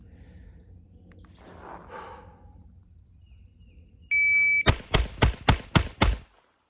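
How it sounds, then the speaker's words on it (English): A short electronic timer beep, then six quick, loud, evenly spaced gunshots from a Taurus 856 revolver, fired in rapid succession with no talking. "let's just like do a quick 6 shots just to show you how nice this gun tracks."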